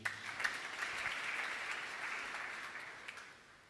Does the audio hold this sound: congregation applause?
yes